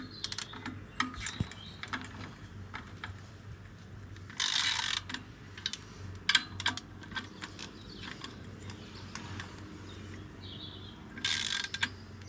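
A ratchet wrench clicks in short, dry bursts while tightening parts during a clutch job on a Peugeot 104, the pawl ticking faintly and close amid quiet workshop handling and a couple of brief louder scrapes.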